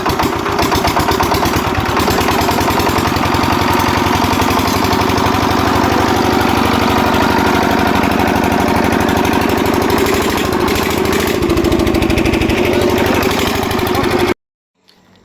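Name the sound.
engine running at low throttle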